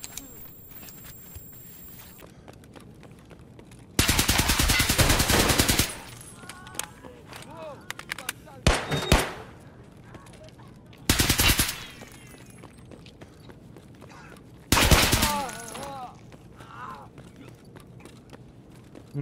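In Escape From Tarkov, gunfire from above comes in several loud, rapid automatic bursts separated by quieter stretches, with footsteps and movement between them and a voice talking now and then.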